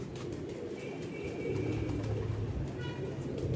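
A pigeon of a fancy Teddy breed coos close by in short, soft, low repeated calls, with some faint background noise and no speech.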